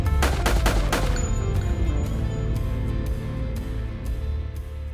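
Suppressed gunfire at handgun shooting practice, with a quick burst of close, sharp shots, then more spaced single reports over a steady background rumble.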